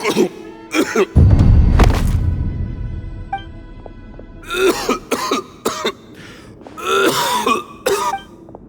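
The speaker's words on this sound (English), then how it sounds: "Why is he coughing so much?" Several harsh coughs and throat clearing burst out close by, loud at first and then in choppy spurts, with brief voices mixed among them.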